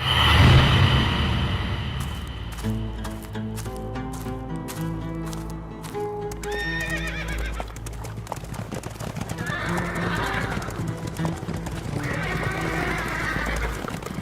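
Horses whinny loudly and repeatedly while hooves clip-clop in a steady walking rhythm, close by, with a brief loud rumble at the start and faint talk in the background.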